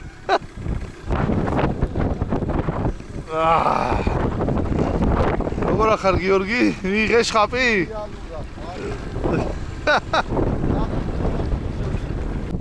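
Strong wind buffets the microphone in rough gusts while people talk over the roar, near and loud throughout, during a duck hunt at Jandari Lake, Georgia.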